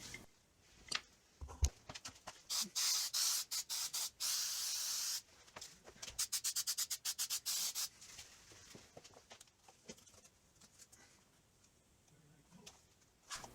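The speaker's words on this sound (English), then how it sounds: "it's now time to use some spray glue and start piecing stuff together" Short hissing bursts of an aerosol can of spray glue, several quick sprays followed by a longer continuous one, close by and fairly quiet.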